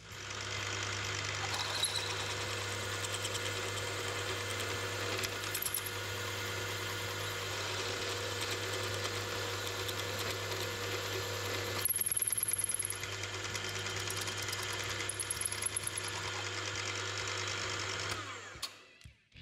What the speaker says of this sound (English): drill the base of the countersinks to clear the shaft of the bolt